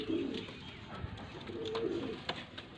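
A breeding pair of high flyer pigeons coos softly and repeatedly nearby, low murmuring calls over a steady hiss of background noise with no talking.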